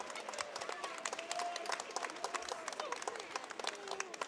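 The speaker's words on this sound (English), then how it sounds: "let's have a massive round of applause, please, for both men after five excellent rounds of action" At a boxing event in Sheffield, the arena crowd gives a fairly quiet, dense round of applause and scattered voices for both fighters after a five-round bout.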